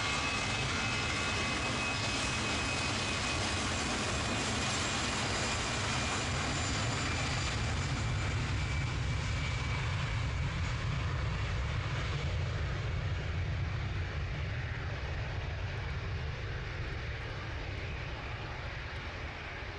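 An Air France airliner takes off from Manchester Airport, its engines a loud, continuous broadband roar that holds steady for the whole stretch and thins slightly toward the end, with no talking.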